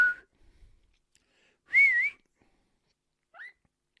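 A person whistles a few short notes to a pet: a brief note, a louder wavering whistle, then a faint short rising chirp, with quiet pauses between.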